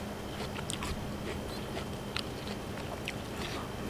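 Close, wet crunching as spicy arugula seed pods are chewed outdoors in a garden, irregular bites and munching over a steady background hiss.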